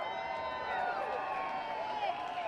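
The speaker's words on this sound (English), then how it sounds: "give it a big cheer" A large crowd at an outdoor political rally in Sydney, flags waving, sends up a sustained wash of cheering and shouting that holds steady throughout, dense and moderately loud, with voices blending together.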